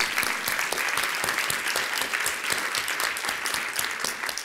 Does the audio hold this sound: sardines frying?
no